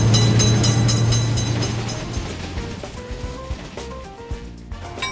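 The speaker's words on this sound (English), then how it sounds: "Train is coming. Attention, train is coming." A train rolls through a level crossing in a video game, a loud close rumble with clacking wheels that fades slightly as it passes.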